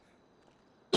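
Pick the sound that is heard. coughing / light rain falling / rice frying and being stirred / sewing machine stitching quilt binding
coughing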